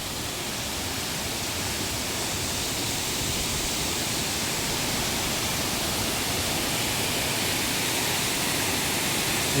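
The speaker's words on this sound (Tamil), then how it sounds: "நல்லா ஊத்துது தண்ணி" Continuous, even rushing of a waterfall pouring down at a temple park in Malaysia, a steady broadband roar with no breaks or voices.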